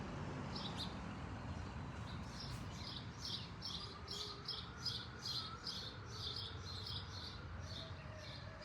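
Small birds chirp at a multi-unit birdhouse, giving a steady run of quick, high, faint tweets repeated in a rhythmic series over a constant background hiss.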